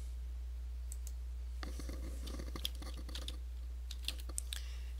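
Keys clatter on a computer keyboard as a command is typed into a Cisco router's command line, a short burst of close, crisp clicks with small pauses, over a steady low electrical hum.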